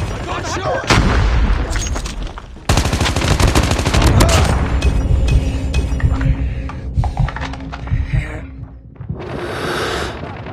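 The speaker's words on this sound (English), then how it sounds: "Predator missile inbound" A Predator missile strike in the mobile shooter Call of Duty Mobile: loud rapid bursts of gunfire and heavy blasts crowd the scene, with a whooshing impact rumble and a radio-style voice calling out over the battle.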